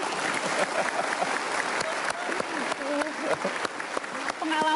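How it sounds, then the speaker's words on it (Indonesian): A studio audience claps in sustained, dense applause during a talk show, loud and close, with a voice faintly audible underneath near the end. "boleh dikasih tepuk tangan dulu?"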